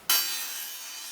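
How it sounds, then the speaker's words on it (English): A table saw cuts a scrap piece of plywood for a miter gauge slot runner: a sudden sharp onset, then a sustained bright, whining cutting noise that stays loud and steady throughout. "I'm going to go ahead and cut the width of my miter gauge slot, which is about 3/4 of an inch"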